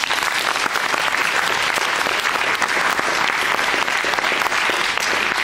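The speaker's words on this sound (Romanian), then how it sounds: "te impune din nou aplauze pentru Mihaela." Sustained, dense audience applause for Mihaela at a formal award announcement, loud and even from start to finish with no pauses.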